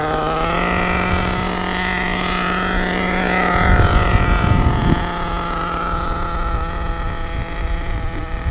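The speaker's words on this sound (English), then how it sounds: "So I'm running for the second time, so I will not use the full throttle." An HPI Savage X 4.6 nitro RC truck engine runs steadily at part throttle with a continuous buzzing drone, briefly rising in pitch and roughness midway before settling back to a steady idle-like hum, fairly close and loud.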